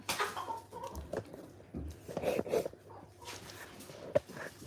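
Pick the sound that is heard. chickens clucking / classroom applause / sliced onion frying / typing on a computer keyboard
chickens clucking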